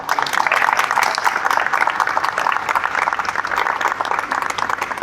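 A crowd claps loudly and steadily at a celebration in Pakistan's Jolta electric bike factory, close, dense applause with rapid individual claps sustained for several seconds and no voices on top.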